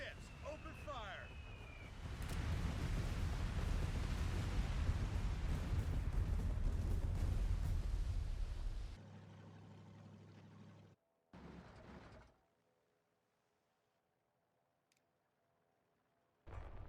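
Heavy naval guns bombard the shore in Company of Heroes 3, a loud sustained roar of blasts and rumbling for several seconds, then a lower rumble fading to near silence; voices speak over parts of it.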